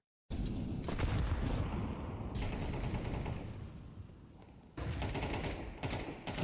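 Sustained rifle fire bursts in a Counter-Strike 2 match between BIG and OG at a closed qualifier, dense rapid shots and echoing booms filling the mix, dipping briefly before another loud volley.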